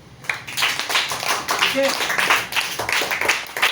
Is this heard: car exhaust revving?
no